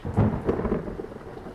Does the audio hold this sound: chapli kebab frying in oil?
no